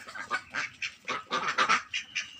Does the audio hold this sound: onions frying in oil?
no